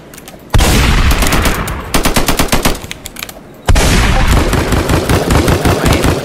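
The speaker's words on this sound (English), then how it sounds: "My shotgun is trash" Shotgun and automatic gunfire from the Roblox game Strucid crack out in loud dense bursts, a long rapid volley, then a stuttering run of separate shots, then another sustained barrage.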